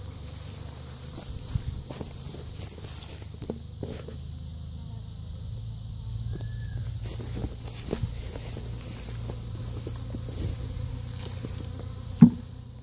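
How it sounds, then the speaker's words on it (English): Honeybees buzz steadily around hive boxes being adjusted on a new hive, a continuous close drone with occasional light knocks and footsteps, and sparse talk in the background. "Gotta get the bees off the top box."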